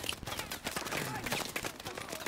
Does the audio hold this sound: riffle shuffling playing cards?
no